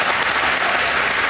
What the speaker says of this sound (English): look, they're applauding you